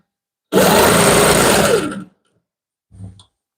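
Sewing machine stitching a quilt border on a wedding ring quilt, a close, loud steady motor buzz for about a second and a half that winds down, then a brief short burst of stitching after a pause.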